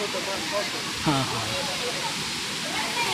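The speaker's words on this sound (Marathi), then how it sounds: "हा कपिलधाराचा वॉटरफॉल आहे, बघू शकताय." Kapildhara waterfall at a temple site, its water flow reduced, pours as a steady broadband rush throughout, with a brief voice speaking over it partway through.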